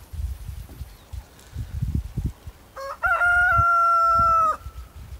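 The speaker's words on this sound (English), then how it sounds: "I love to hear a rooster crow." A farm rooster crows once, loud and near, a long drawn-out call of about a second and a half, preceded by low clucking and rustling from hens and other fowl.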